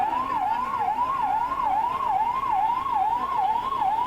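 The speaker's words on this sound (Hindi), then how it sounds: "दमकल विभाग की गाड़ियां मौके पर पहुंची हैं और आग को काबू करने का प्रयास कर रही हैं" A fire engine siren wails steadily in a rising and falling cycle, repeating about twice a second, loud and continuous as the truck arrives at a department store fire in Jhansi, with a faint traffic hum beneath.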